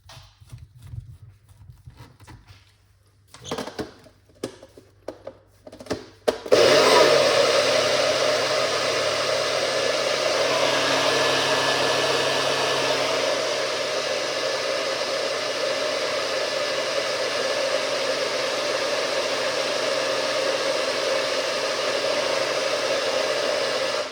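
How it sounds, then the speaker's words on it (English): Kitchen blender blending carrot and pumpkin punch with added water, starting after a few clicks and clunks and then running as a loud, steady whir to the end. "Can we use about the same liquid and blend it."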